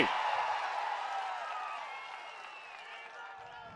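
Crowd at a Telugu-language public political rally in Bobbili clapping loudly in a sustained, dense wash of applause that slowly fades, with faint cheering mixed in.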